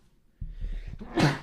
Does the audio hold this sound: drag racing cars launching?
no